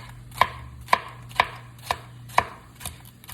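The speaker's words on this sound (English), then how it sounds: "Oh, I miss my knife cutting so smooth." Knife chopping onions and peppers on a cutting board, six evenly spaced, crisp chops about half a second apart, close and clear, with no voices.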